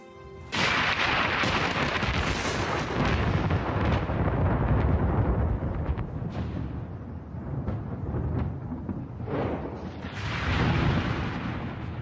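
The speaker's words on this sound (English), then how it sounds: "During thunderstorms, electric charges build up, creating lightning bolts that reach tens of thousands of degrees." Deep, heavy thunder rolls through a thunderstorm, a long sustained rumble with crackling bursts that swells again near the end, loud and close with no talk.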